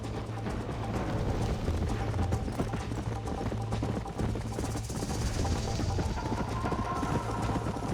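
Hooves of a horse galloping in Red Dead Redemption, a steady rapid clip-clop rhythm running throughout over a low droning game score, fairly loud and close with no talk.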